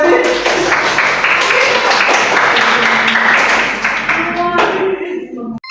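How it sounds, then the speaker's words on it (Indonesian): A classroom of students breaks into loud, close applause during a microteaching lesson on changes of state of matter. The clapping runs continuously for several seconds, then stops abruptly near the end, with voices mixed in. "Tepuk tangan untuk Dayati"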